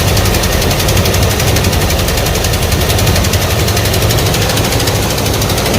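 A 1984 Ford F150 truck engine idles steadily and loud, its even mechanical rumble and ticking holding constant with no revving.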